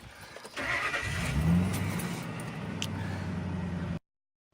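A 2003 Ford F250 Super Duty XL pickup with about 255,000 miles cranks and catches, then settles into a rough, steady idle close by before cutting off abruptly.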